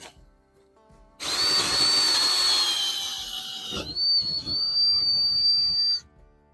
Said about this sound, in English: Drill me a hole through the outside of the house.